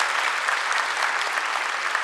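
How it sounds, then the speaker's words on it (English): Orientation and white coat ceremony audience claps for new MBBS students, a steady, dense wash of applause heard alone throughout. "A round of applause to all the students."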